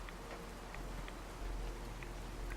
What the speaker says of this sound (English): And still raining like piss out of a boot.